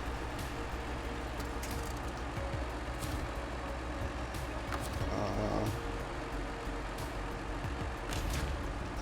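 A heavy truck in the SnowRunner video game on the Kola Peninsula, a continuous low diesel engine drone with faint clicks and hiss over it, steady and fairly close throughout.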